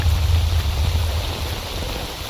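Steady, dense hiss of rain at a truck cemetery in STALKER Anomaly, with a low rumbling undertone, continuous and even throughout, no voices.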